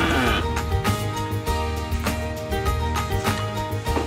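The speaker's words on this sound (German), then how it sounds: "Stall sauber machen und Tiere füttern." Sheep bleating repeatedly in a farm stable at morning feeding time, several close, loud calls overlapping one after another in quick succession.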